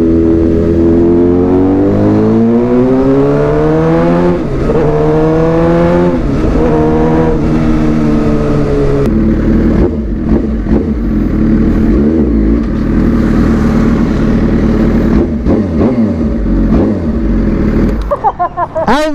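A Suzuki GSX-R 600 sport motorcycle revving hard and loud up close, engine pitch climbing and dropping through repeated throttle blips with a rough, buzzing exhaust, and people talking briefly near the end.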